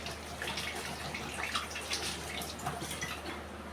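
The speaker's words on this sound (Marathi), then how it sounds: "तर मी आता हात धुवून घेते" Water runs steadily from a kitchen tap while hands are washed during Malvani prawn curry cooking, a continuous close splashing hiss with small drips and no talking.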